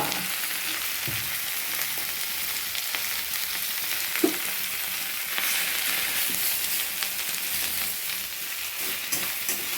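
Neem leaves sizzle and fry in a pan with salt and turmeric, a steady close crackle broken by occasional scrapes and knocks of stirring.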